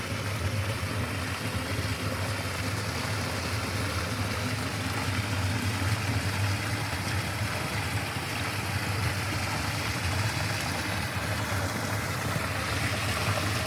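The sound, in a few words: water flowing out of a drainage pipe at a field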